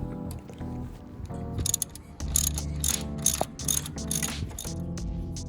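A ratchet wrench loosens alternator bolts on a C5 Corvette, giving bursts of rapid clicking pawl ticks with metallic clatter and pauses between strokes, close up and without speech.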